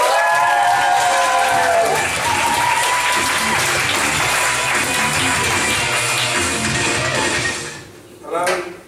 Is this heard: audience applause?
yes